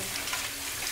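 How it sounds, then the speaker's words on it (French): Steady rush of tap water running over a cloth filter being rinsed in a sink, continuous and close, with no voices. "Donc je le rince."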